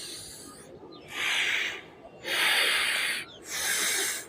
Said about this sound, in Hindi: आपको ये अनुलोम विलोम करना है इसके साथ में।